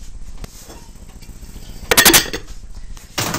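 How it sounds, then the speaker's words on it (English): A lid is placed on a dish of rice being readied for the microwave, giving two short, close clattering clinks of kitchenware against a quiet room background. "Put the lid on."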